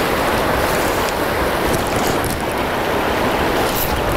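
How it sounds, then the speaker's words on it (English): Breeze blows across the microphone beside a river during fly fishing in Southland, New Zealand, a steady broad rushing hiss that holds constant and alone for several seconds. "Bit of breeze."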